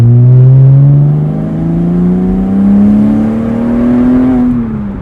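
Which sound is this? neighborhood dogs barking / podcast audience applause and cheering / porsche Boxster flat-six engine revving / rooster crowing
porsche Boxster flat-six engine revving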